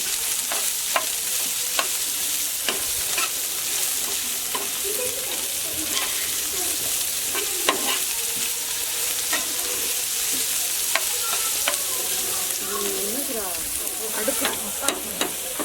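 Onions sautéing lightly in a pan for a conch curry sandwich: a continuous sizzle broken by repeated sharp scrapes and knocks of a spoon against the pan, with brief scraping sweeps toward the end.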